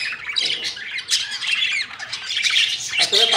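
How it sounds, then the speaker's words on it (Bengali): Pet budgerigars squawk loudly and close by in an afternoon aviary, with sharp overlapping calls running continuously through the moment. "এইখানে হচ্ছে সর্বপ্রথম যে আমি পাখি কিনছিলাম সেই পাখিগুলো"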